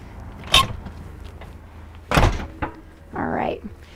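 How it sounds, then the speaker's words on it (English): The entry door of a 2023 Newmar Ventana 4369 motorhome is pulled shut on a cold day, giving a sharp knock, then a heavier thunk with a click of the latch and a brief scraping rustle, close by. "I'm going to close this door because it's about 15 degrees today."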